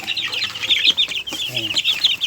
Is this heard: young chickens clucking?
yes